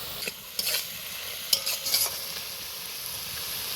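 Mustard paste water poured into a frying pan of pui shak raita, giving soft stirring and a low sizzle with a few brief scraping clicks, fairly faint and steady, with no talk.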